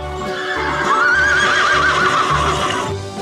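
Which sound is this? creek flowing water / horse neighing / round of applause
horse neighing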